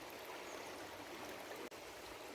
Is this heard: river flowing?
yes